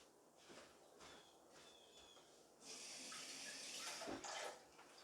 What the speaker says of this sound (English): I'm going to add a little water to my hands.